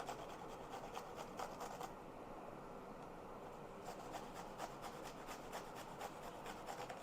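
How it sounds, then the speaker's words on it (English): An onion is rubbed against a grater in quick bursts of close, raspy scraping, with a short lull in the middle. "I need to grate some of that onion"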